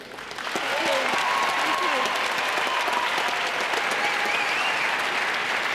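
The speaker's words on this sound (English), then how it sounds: "Round of applause, please." An audience at a televised ice dancing show applauds a performance, with sustained, dense clapping that swells within the first second and holds steady while a host speaks over it.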